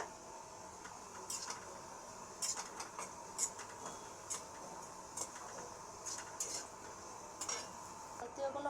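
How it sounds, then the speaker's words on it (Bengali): Sweet potato pantua dumplings fry four at a time in oil, a faint, steady bubbling sizzle with light intermittent ticks and clinks from a utensil, heard close but quietly, with no voices. "চারটে চারটে করে ভাজবো এরকম ভাজতে হবে"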